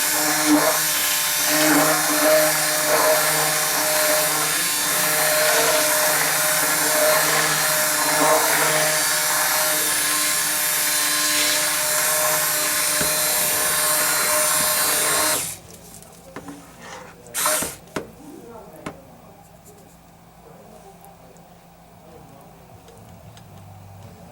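Oats being ground into oat flour in an electric grinder or blender, a loud steady whirring drone for about fifteen seconds that cuts off abruptly, followed by a few brief clatters and quiet room noise.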